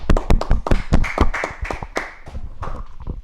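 Podcast hosts clapping their hands in a studio: a quick, irregular burst of sharp, close claps and taps lasting a few seconds, with a faint steady tone beneath.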